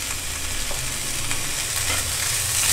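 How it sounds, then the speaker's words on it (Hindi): Vegetables and lightly pre-boiled peas stir-fry on a high flame, a loud, continuous close sizzle that holds steady throughout and carries no speech. "सब्जियों को हम ज़्यादा देर तक नहीं भूनेंगे"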